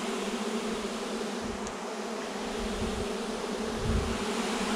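A honey bee swarm being captured in Pfinztal in May gives off a dense, continuous buzz, steady and fairly close, with no voices over it.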